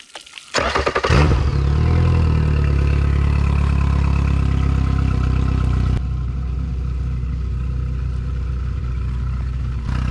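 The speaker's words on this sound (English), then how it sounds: "run it a little bit just to warm up the lower unit oil" A Yamaha 70 hp four-stroke outboard motor starts with a short cranking burst, then settles into a loud, steady close-up idle hum with a slight drop in pitch partway through.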